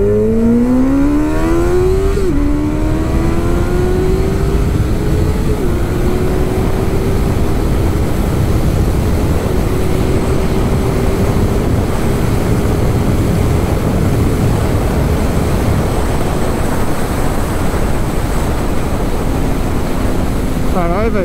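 A Honda Hornet motorcycle accelerates hard in first gear near a toll booth. Its engine note climbs, dips briefly, then rises steadily under heavy wind roar.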